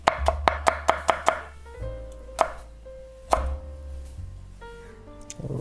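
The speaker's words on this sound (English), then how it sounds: "So I just simply dice it into very small pieces" A knife dices an onion into small pieces on a cutting board, landing as a quick run of about six crisp, evenly spaced chops, then a few isolated chops with pauses between them, close and clear with no talk.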